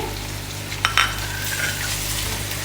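Onion and ginger-garlic paste sizzling in a pan as tomatoes and green chillies are added for curry pakora, a steady low frying hiss with a couple of brief clinks, no voices.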